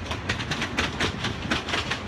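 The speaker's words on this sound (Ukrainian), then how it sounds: "Поки цей потяг неспішно гуркоче на рейках" A train rolls steadily along the rails with a loud, continuous rumble and a regular clickety-clack of wheels over rail joints.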